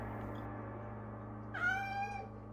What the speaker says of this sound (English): And then we've got cat noises, because she lives alone with cats.